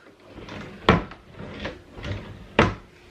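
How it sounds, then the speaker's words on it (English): A freshly painted wooden pantry drawer slides open and shut several times with soft scraping runs, and two sharp, close thuds mark where it closes. "We have a drawer that works."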